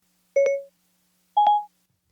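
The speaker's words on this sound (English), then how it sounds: "the Siri Chime or Siri activation thing has changed. So you remember that the old one was this." Two short electronic chimes, the old iPhone Siri activation sound, each a clean tonal blip, separated by about a second of silence.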